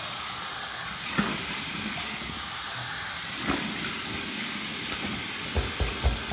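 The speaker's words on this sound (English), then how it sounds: "that was my warm water rinse" Warm water runs steadily for a rinse after shaving with a bay rum shave soap, a continuous hissing flow with a few brief splashes and knocks near the end.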